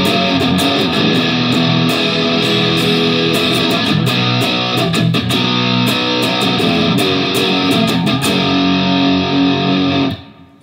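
Electric guitar riff for a song, played with heavy distortion, loud and close with a thick sustained tone and rhythmic muted chugs, ringing steadily before cutting off abruptly near the end.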